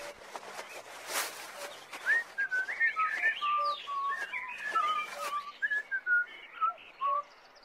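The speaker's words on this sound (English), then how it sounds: "I can hear someone whistling," Someone whistles a lively, warbling melody of short rising and falling notes, fairly close, with a brief noisy rustle near the start.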